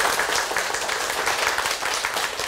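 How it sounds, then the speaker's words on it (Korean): An audience at a televised lecture on home ownership claps together in a steady, dense burst of applause, fairly close and sustained throughout. "내 집 마련하고 싶은 열광 한번 박수 한번 쳐주세요."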